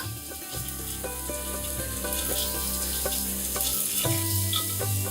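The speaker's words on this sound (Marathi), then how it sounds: "इथे मी बासमती तांदूळ घेतलाय पण तुम्ही आंबेमोर किंवा कोलम सुद्धा घेऊ शकता हा भात मस्त परतूया" Basmati rice sautéing in a hot pan, a steady close sizzle with soft scraping stir strokes and a low hum underneath, continuous throughout with no speech.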